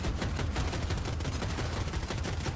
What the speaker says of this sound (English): I'm just staggering my 30mm cannon at it